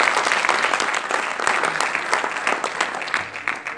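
Audience applause fills the clip, steady and fairly close, with many overlapping claps from a crowd at a motivational talk.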